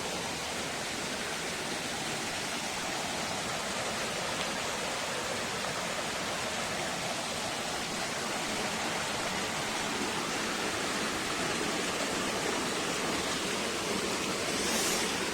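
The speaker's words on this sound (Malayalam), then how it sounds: "അതിങ്ങനെ ആ സൈഡിലൂടെ വെള്ളം വരുന്നുണ്ട്." A stream near Mullariangad in Thodupuzha, Idukki, swollen by heavy rain, rushes past as a dense, steady roar of flowing water that fills the scene from close by and stays constant, with no voices over it.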